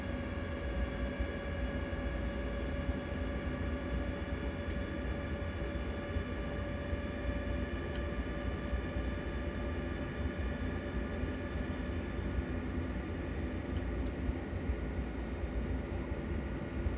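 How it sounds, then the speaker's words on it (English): Steady airplane engine drone from a plane flying in near Newark in Train Sim World, a constant low rumble and hum held at an even level throughout, with no talking. "Plane coming in, a Newark up ahead."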